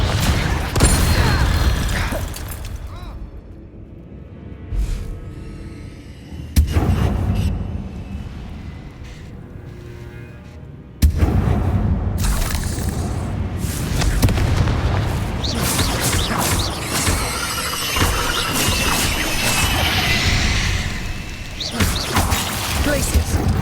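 Confringo fire spell exploding in the Hogwarts Legacy video game, loud booming blasts with crackling debris and rumbling tails recurring through a noisy combat soundscape, with other bursts and impacts between them.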